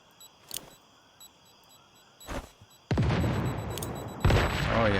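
In the video game Once Human, C4 charges and grenades go off with sharp blasts, followed by a long, loud rumbling roar and a second heavy boom near the end. Faint clicks and thuds come before them.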